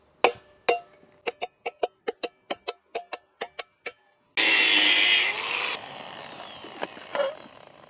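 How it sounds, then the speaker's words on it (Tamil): A power tool cuts a steel plate along its centre line. A row of sharp, evenly spaced metallic taps gives way to about a second of loud, harsh cutting, followed by a fading whir and faint clatter. "இந்த பிளேட்டோட கரெக்டான சென்டர் லைனில் ஒரு பக்கத்தை மட்டும் வந்துட்டு கட் பண்ணி விட்டுறேன்"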